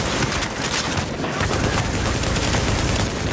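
Rapid gunfire and cannon fire, including naval ship guns, in a video game battle: dense, continuous bursts of overlapping shots and booms filling the whole stretch, loud, with no talking.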